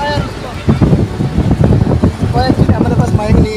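Strong sea wind buffets the microphone on an open shoreline, a loud rough rumble rising and falling in gusts beneath someone talking.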